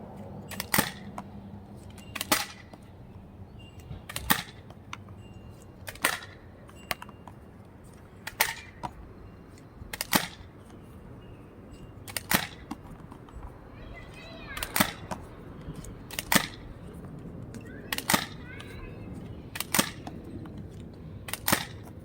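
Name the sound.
Nerf Fortnite blaster firing darts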